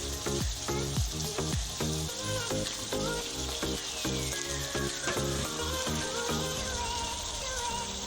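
Goat meat curry with potatoes cooking in a pan, a soft steady sizzle broken by rhythmic stirring clinks and scrapes, close and fairly quiet.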